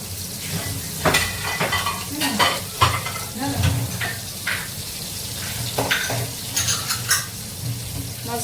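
Marinated fish frying in oil in a pan, a loud steady sizzle with repeated clatter of utensils and stirring against the pan throughout, with faint voices in the background.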